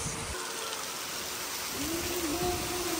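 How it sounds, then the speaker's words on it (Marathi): Heavy rain pours steadily in a village setting, a dense continuous hiss close by with a faint tonal hum rising partway through. "जोरात हाग्या पाऊस."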